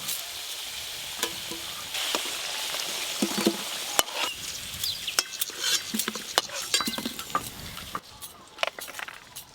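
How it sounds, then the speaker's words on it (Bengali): Bay leaf, dried red chili, cloves and cinnamon sizzling in hot oil as tempering for mutton curry, a crackling fry with scattered pops and stirring clicks, close and steady, no speech. "আমি আজকে খাসি মাংস রান্নার জন্য ফোড়নে নিয়েছি তেজপাতা শুকনো লঙ্কা লবঙ্গ আর দারুচিনি"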